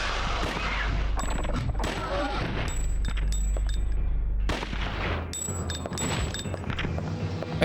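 Gunfire from the 1999 survival horror game Dino Crisis: several loud, close shots and booms crack out in bursts, each followed by ringing electronic tones, over a constant low rumble.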